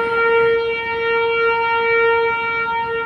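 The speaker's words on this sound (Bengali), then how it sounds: "ট্রেন যাচ্ছে দেখো," A passing train sounds a loud, sustained horn: one steady, tonal blast held without a break for about three seconds, with no voices.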